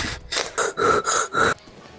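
A tired horse in Minecraft snorts and blows air in four or five breathy pulses, close and fairly loud, fading to quiet at the end.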